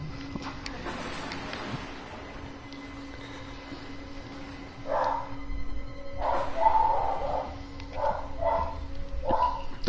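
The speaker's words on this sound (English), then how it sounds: "Dogs are barking, be right back." Several dogs bark in a loose cluster of sharp woofs, some way off and moderately loud, following a quieter stretch of low background hum.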